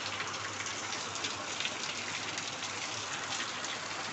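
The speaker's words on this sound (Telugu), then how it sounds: "పాపం వాన పడుతున్నా కూడా" Steady rain pouring down in a village, a dense even hiss of drops striking surfaces, continuous and moderately loud with no voices.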